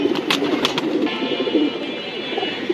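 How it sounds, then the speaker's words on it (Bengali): A male khaki racing pigeon coos steadily at close range, low rolling calls over a constant background hum, with a few sharp clicks early on. "এলো আর একটা নর কবুতর এটা কি কবুতর ভাই এটা একটা খাকি কবুতর"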